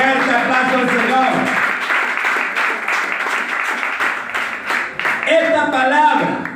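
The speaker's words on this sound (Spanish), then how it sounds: "Que nos dé fuerte aplauso al Señor." A church congregation breaks into loud, sustained applause, dense and close, with voices and music-like tones rising beneath it toward the end.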